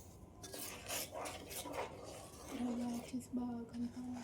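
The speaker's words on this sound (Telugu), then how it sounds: "రవ్వ యాడ్ చేస్తూ బాగా కలపాలి." Semolina stirred into sugar syrup with coconut pieces and cardamom for ravva laddu, a close, faint scraping and rubbing of a spoon against the pan in irregular strokes, with quiet talk over part of it.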